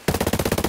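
Rapid automatic gunfire in a first-person shooter firefight, a steady stream of about ten evenly spaced loud shots in under a second, with no voices.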